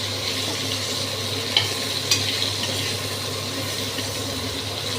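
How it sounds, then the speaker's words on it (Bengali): Pointed gourd pieces frying in sesame oil give a steady, close, even sizzle, with a couple of faint utensil clicks and no voices. "আর একটু তেল দিয়ে দিচ্ছি ভাজা তো ভালো করে করতে হবে"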